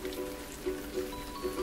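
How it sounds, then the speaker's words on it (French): Steady rain falls in a soft, even patter with a continuous wash, faint and alone with no voices. "It's rainy."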